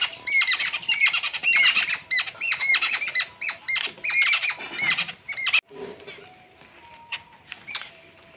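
Village birds crowd in for their first morning feed after heavy overnight rain, a dense, loud burst of rapid squawks and squeals that thins into scattered, quieter calls.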